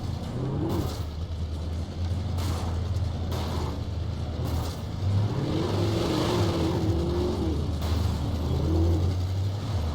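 A car drives steadily in the video game Alan Wake, its engine rumbling low and even, with the pitch rising and falling slightly as it accelerates and cruises.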